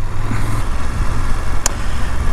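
A BMW F750GS motorcycle rides along a damp road on the Swedish Trans Euro Trail, its engine a steady, close drone under road and wind noise, with one brief sharp tick near the end.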